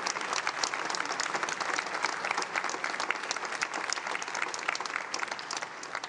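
A congregation at a synagogue MLK Shabbat service gives steady, sustained applause as members stand, with dense clapping from many hands filling the room at an even level throughout, and no speech over it.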